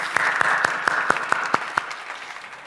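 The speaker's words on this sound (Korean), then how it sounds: "하나님께 영광의 박수 올려드리겠습니다" A church congregation at an early-morning prayer service claps in a steady, evenly spaced rhythm, about eight sharp unified claps over a full, reverberant room wash.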